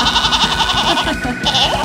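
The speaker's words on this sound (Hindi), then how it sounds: "अब इन बकरियों को क्या हुआ, इतना क्यों चिल्ला रही है?" Goats bleat loudly and repeatedly in an animated farm story, a rapid run of wavering, nasal cries packed close together and sounding near, with a brief dip before the calling resumes.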